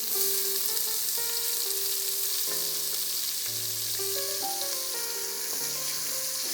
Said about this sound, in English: with the grease that's left in the pot, we're going to add 1 finely diced yellow onion.